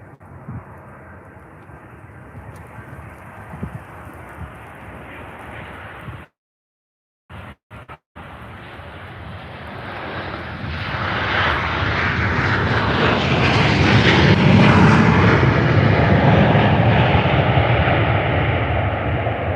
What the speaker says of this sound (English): Nice landing made by Transavia.